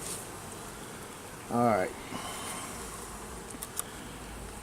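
Honeybees swarm over the frames of an opened backyard hive, their steady close buzzing hum running throughout while someone speaks briefly.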